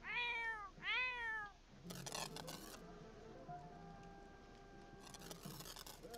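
A cat in The Sims 4 video game gives two rising-falling meows close up, followed by clicking and rustling game sound effects.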